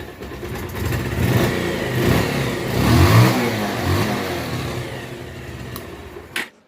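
A Bajaj Pulsar 150 motorcycle engine, fresh from a piston ring fitting, revs up and down close by, rising to a strong peak midway before cutting off abruptly.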